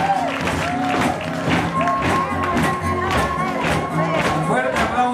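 An audience at a Xochiteca cultural evening in Xochitlán de Vicente Suárez applauds a traditional Zapotolo performance from La Huasteca. Steady clapping and scattered cheers fill the space over background music.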